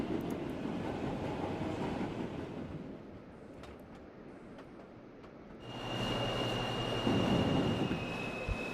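Subway D express train running on rails through snowy conditions, a steady rumble that softens midway and then swells louder with a sustained whine, heard alone without voices.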